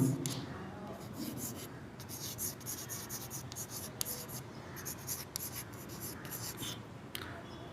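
Chalk or marker writing on a board during a chemistry lesson, steady scratchy strokes with short pauses, fairly close and continuous over a low room hum.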